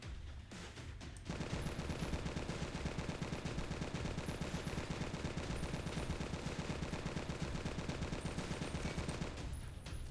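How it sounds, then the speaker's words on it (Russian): Sustained rapid machine gun fire from the video game Left to Survive, aimed at swarms of spiders, a dense unbroken rattle of shots kicking in after a second and running loud for roughly eight seconds. "А вот пулемет, у которого там огромное количество патронов"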